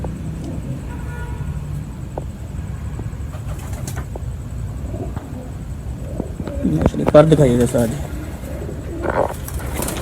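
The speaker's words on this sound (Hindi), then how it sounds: "बहुत अच्छा कबूतर है" Pet pigeons at a Rawalpindi pigeon keeper's loft coo softly and flap their wings in short bursts, close by, under near-constant conversation between men.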